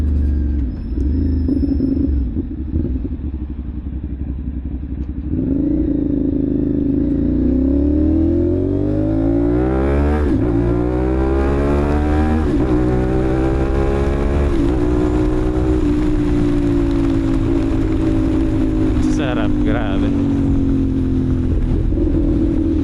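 A Kawasaki 450NK motorcycle engine rumbles loudly, then revs up and down through several rising pitch sweeps, with a brief spoken remark near the end.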